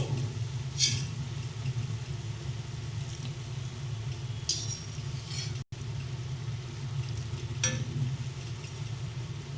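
Bengali lentil rosbora (biulir dal rasbora) frying in hot oil and being lifted out: a steady, close sizzling hiss with a few sharp clinks and scrapes.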